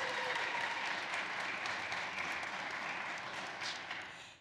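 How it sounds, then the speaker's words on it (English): Rally crowd at a National Girls & Women in Sports Day event in Nevada breaks into steady applause, a full even roar of clapping that holds strong, then begins to fade at the very end. "How about a nice round of applause?"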